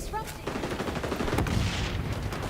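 In a video game, grenades go off as a dense, continuous barrage of blasts mixed with rapid gunfire-like crackle, loud and sustained across the whole short stretch.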